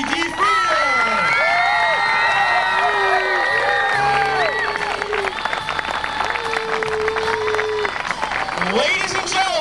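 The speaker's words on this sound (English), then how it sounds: "And keep right on clapping." Audience at a ski show memorial and alumni performance claps and cheers steadily throughout, with loud whoops and shouts from the crowd rising over the dense applause.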